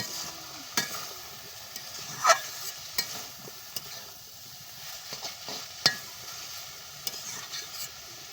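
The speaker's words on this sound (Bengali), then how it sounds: "এই যে শাপলা ভাজা হচ্ছে, এই দেখো রসুন আর কাঁচামরিচ।" Water lily stems frying with garlic and green chili, a soft steady sizzle broken by intermittent clicks and scrapes of stirring in the pan, close and without speech.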